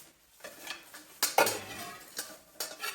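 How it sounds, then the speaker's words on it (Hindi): A large metal camping cooking pot is handled, with intermittent close clanks, knocks and scrapes of metal against metal and no voices. "ये बड़ा भिगोना आ गया"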